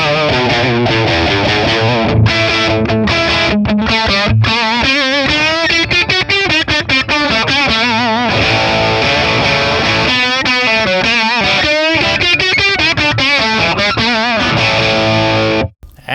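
Telecaster electric guitar played through a Matchless Laurel Canyon amp capture with no reverb, giving a loud, continuous distorted tone with sustained chords and shifting notes throughout, ending abruptly.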